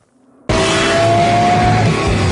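A Lexus LFA engine snaps from silence into a loud, sustained high rev that holds steady and close for about two seconds.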